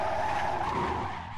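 A Nissan Skyline R34 skids in the Assetto Corsa racing game. Its tires let out a steady squeal that rides over engine rumble and eases off toward the end, with no voices.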